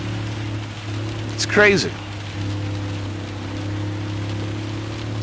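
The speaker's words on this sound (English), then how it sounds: "As the hard rain starts pouring down, you can hear it." Hard rain pounds a Toyota Tundra TRD Pro in Gran Turismo 7 on PSVR 2, a steady dense hiss of drops on the car body over an engine hum, briefly interrupted by a short rising whistle-like sound while a person speaks.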